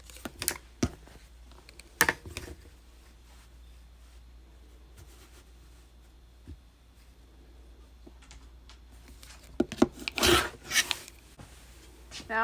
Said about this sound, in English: Now I'm just trimming the borders so they're all even.